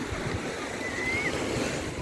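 Steady wash of sea waves at Bangsaen beach in Chonburi, a continuous broad surf roar with some wind noise across the microphone, and no one speaking.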